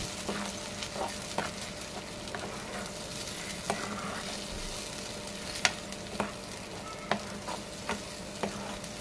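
Paneer cashew masala gravy cooking in a hot pan, a soft bubbling sizzle with regular scraping strokes as it is stirred, close up and free of speech.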